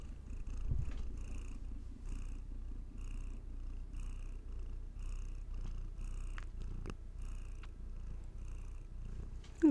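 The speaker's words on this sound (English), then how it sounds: "Yeah, you got the purrs." A cat purrs steadily and close by, a continuous low rumble that holds at an even level throughout with no talking over it.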